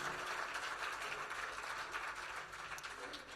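Audience at an evening benefit concert applauding donors, a steady, dense wash of clapping that stays fairly even throughout, moderately distant and somewhat faint.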